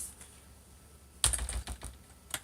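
Keys clatter on a computer keyboard while someone works on a Dell slim client, starting with a sudden burst of several quick, close keystrokes after a quiet stretch, then a few scattered presses.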